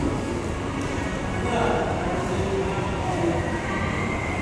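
A train at Ba Na Hills, Vietnam rumbles steadily with a dense rolling roar that holds throughout, while people talk faintly beneath it.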